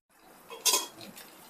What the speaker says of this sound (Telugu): దీనికి కూడా మూత పెట్టేస్తాను